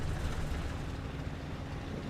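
Piston aircraft engine in Microsoft Flight Simulator just after start-up, running rough: steady low droning rumble with slight uneven pulsing, held at moderate level throughout with no voices.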